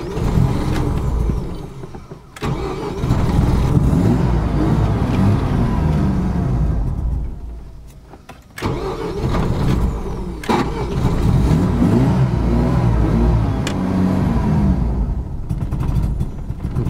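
A Mazda RX7 FD rotary engine, recently fitted with a new battery, runs with a continuous low rumble. It struggles to hold a rough idle, and its note briefly dips twice.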